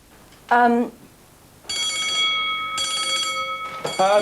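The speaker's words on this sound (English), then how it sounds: "I know that's the bell" A classroom bell rings during a lesson, a sustained electric ring lasting a couple of seconds, with brief classroom voices just before and after.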